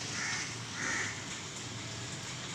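A crow, agitated by a monkey nearby, gives two harsh caws in quick succession at moderate distance, set against a steady wash of falling rain, with no voices.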